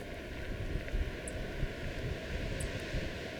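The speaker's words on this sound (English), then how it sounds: "That wind coming in is helping us cool off a lot though." Wind blows in the Sawtooth Wilderness as a steady, dense rushing roar that buffets the microphone, with no voices.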